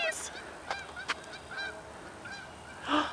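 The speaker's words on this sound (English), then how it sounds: "Oh, there's geese." Geese honk outdoors in scattered bursts, a few calls early on and a louder cluster of honks near the end, over a low steady background.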